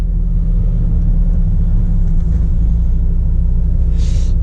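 A refrigerated truck drives through the night, its engine giving a loud, steady low rumble and drone that fills the cab with no break.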